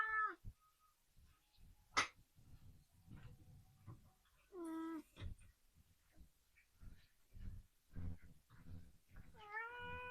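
A pet cat meows several times in short, rising-and-falling calls, fairly close, with quiet household handling noises and faint movement between the cries.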